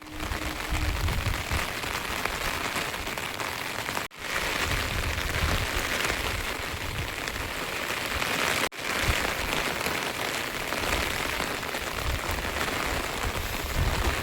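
Rain pours steadily outside a house at the far edge of a village, a dense, even roar on surfaces nearby with two brief breaks in the sound.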